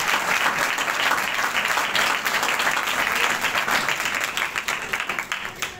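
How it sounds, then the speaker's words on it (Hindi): Church congregation applauding loudly in praise of God, dense sustained clapping from a large crowd that stays strong throughout, then thins toward the end into separate, more distinct claps. "आइए खुदावंद के लिए जोरदार तालियां करें।"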